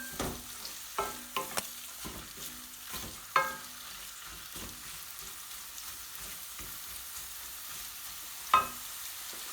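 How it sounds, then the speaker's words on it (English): Two medium onions fry over raised heat, caramelizing for a beef naga curry. The sizzle is soft and low, and a handful of sharp spoon clicks and knocks against the pan stand out. "caramelize the onion, and once that's done, we're going to add in our beef"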